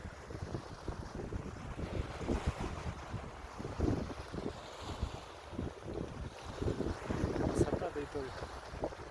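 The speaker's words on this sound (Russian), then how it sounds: "Наконец-то этот шум моря ибициозный" Sea waves along the shore at Ibiza, a soft repeated wash of surf mixed with wind buffeting the microphone, faint and steady with brief louder gusts.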